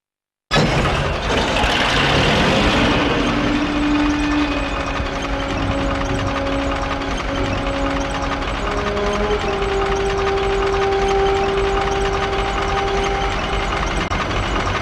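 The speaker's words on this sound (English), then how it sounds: "But our tank soon had engine trouble, and the smoke plume was giving away our position." A troubled T-34 tank engine in a Call of Duty game starts abruptly and runs on as a loud, steady rumbling drone with faint whining tones above it, no voices present.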